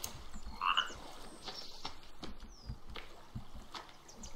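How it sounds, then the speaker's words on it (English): A frog in the survival video game The Forest gives a short croak early on, followed by quiet woodland ambience with soft rustles and scattered clicks. "I always hear a frog, but I never see one."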